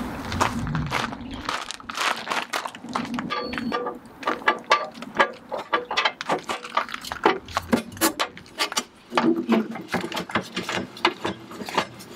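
Levelers on an Airstream RV being raised before hitching to a Jeep produce a string of irregular mechanical clicks and ratcheting clacks, close and fairly loud, with shuffling movement between bursts.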